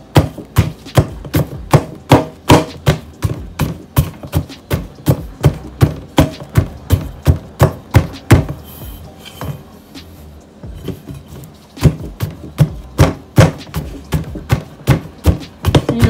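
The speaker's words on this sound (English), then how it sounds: "I'm going to be beating it in the dish, just softening everything" Ackees being pounded in a dish into an oily paste, a steady run of sharp, rhythmic knocks that pause briefly midway and then resume, loud and close with no talking.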